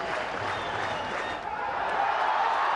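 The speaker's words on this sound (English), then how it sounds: "There you see the Pakistani camp applauding his effort." Stadium crowd applauding a batsman's innings during a Pakistan vs India cricket match at Sharjah, a steady broad wash of clapping and crowd noise heard from a distance.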